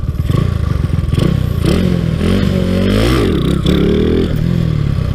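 Honda Wave 125 motorcycle with a 54 mm piston revving hard during wheelie practice, close and loud engine swelling and dropping in pitch with clattering and thumps.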